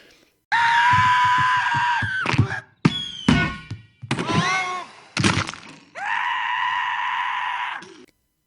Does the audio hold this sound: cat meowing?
no